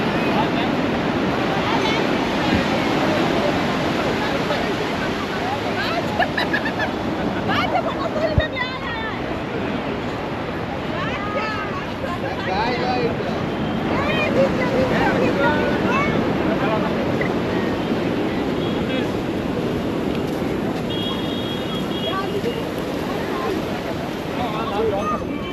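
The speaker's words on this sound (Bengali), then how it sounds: "সমুদ্রের গর্জনটা খুব জোর হচ্ছে" Sea waves roar continuously on Puri beach, a steady wash of surf mixed with heavy wind buffeting the microphone, loud and unbroken throughout.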